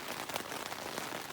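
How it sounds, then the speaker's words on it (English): Steady rain pours over a backcountry campsite with poor drainage on a multi-day solo backpacking trip in the wilderness, a dense continuous hiss of drops with scattered louder patters close by and no talking. "It is raining and raining and raining."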